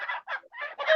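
Chickens clucking and squawking in quick, loud bursts close by, several calls in a row with short gaps and a louder final burst, no talk over them.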